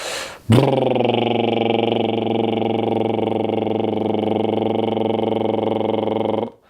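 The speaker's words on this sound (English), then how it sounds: "This is like a lip roll, and it sounds like this." A single voice does a sustained lip roll as a vocal warm-up, a buzzing, fluttering trill on a steady pitch. It is held loud and close for about six seconds after a quick breath.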